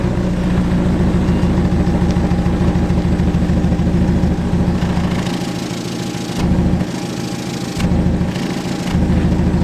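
A Peugeot 206 engine runs through a stainless Inox Ragazzon exhaust line, a loud, steady, close idle drone that is muffled briefly several times near the end.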